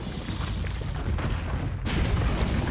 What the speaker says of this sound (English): Just take some fucking grenades.